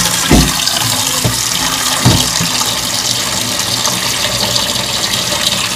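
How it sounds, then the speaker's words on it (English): Water pours steadily into a bowl of uncooked malagkit glutinous rice, a close, continuous gush with a few louder splashes near the start. "Add the water."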